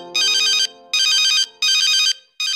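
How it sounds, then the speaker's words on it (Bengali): A mobile phone ringtone plays in short, loud repeated bursts, three full rings and the start of a fourth, with brief silences between them. "কি ব্যাপার ভাই, কেটা ফোন দিছে?"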